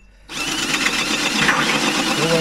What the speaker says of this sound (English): I'm drilling with the hole cut saw, obviously.